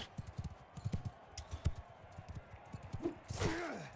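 Horse hooves clop in a steady galloping rhythm during Mount and Blade 2 Bannerlord combat, moderately close, followed by a brief whooshing swell and a gasp near the end.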